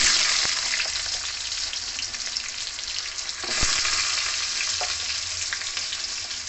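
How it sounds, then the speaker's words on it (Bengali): Potato pieces frying in hot oil in a pan where cauliflower was just fried, giving a continuous close, loud hissing sizzle with a brief clatter partway through and no voices. "আলুটাকে ভালো করে ভেজে নেব।"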